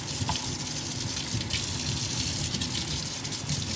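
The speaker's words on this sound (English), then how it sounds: "All right, warm water." Warm water runs from a tap in a steady, continuous gush for bread dough, a bright splashing hiss with no talk over it.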